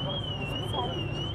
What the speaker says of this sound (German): da läuft im Moment die Alarmanlage